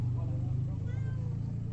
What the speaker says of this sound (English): Ooh, cat! Why are you here alone under the rain?